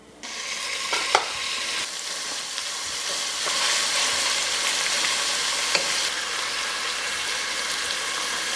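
Pancetta, lean ground beef and pork sausage brown in hot Italian olive oil, a steady close sizzle with occasional stirring scrapes that grows slightly louder partway through.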